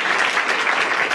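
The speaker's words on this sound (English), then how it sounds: "let's give Nancy a round of applause" Audience applause at a political town hall: dense, steady clapping from a large crowd, loud and close, with no voices above it.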